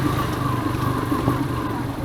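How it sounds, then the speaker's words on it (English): A Yamaha motorcycle engine runs steadily on an off-road trail near Diggi village in Goa, a close, continuous mid-pitched drone with a faint rhythmic pulse and no pauses. "I think that's the beauty of a Yamaha engine"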